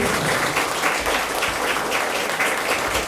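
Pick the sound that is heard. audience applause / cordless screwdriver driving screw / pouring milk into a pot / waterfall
audience applause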